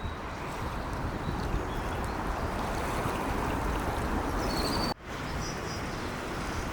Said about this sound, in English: The speed of the water going past is mad